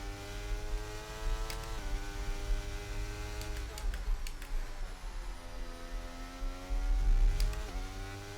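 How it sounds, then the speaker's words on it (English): Video game racing car engines at Imola drone and shift pitch continuously, with gear changes and revving over a steady hum, all at moderate loudness. "you guys can enjoy the engine noises"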